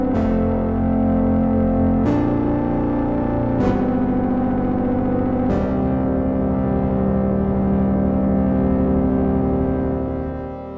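Sustained synth chords through a convolution-sampled spring reverb tank, splashy and metallic; four sharp attacks trigger twangy, echoing tails that linger and slowly decay.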